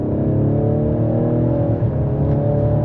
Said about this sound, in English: You see the turbos pull up.